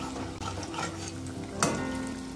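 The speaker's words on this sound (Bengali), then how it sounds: "বেসনে ব্যাটারে ডুবিয়ে দেখো মোচার চপ ভাজছি" Banana flower chops dipped in gram flour batter frying in oil, a steady close sizzle throughout with a sharper crackling burst near the end as a piece drops in.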